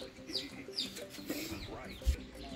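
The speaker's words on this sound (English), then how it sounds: "these are my chickies" Chickens cluck softly in a backyard coop area, several short calls scattered over a few seconds, while a person talks over them.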